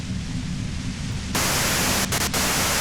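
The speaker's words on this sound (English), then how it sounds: "you can do it through the white noise." Static white noise from the video game Disco Elysium, a steady rushing hiss that turns abruptly louder and brighter partway through, with a couple of brief dropouts, heard alone without talk.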